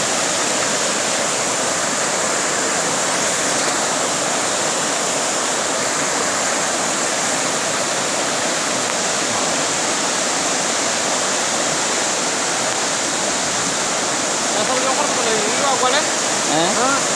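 Floodwater pours and rushes steadily in a flood-hit village panchayat, a dense, continuous roar that stays loud and unbroken from start to finish.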